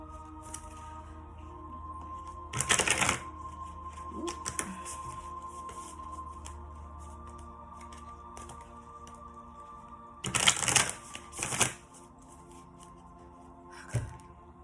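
A deck of oracle cards shuffled during a reading, with two short bursts of riffling and flicking cards and a few light taps in between, quiet and close, against a faint steady hum.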